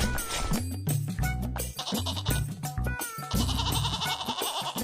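A goat bleats repeatedly amid a busy, loud mix of background music and sound effects in a comic Hindi cartoon story, the wavering calls rising over the dense soundtrack.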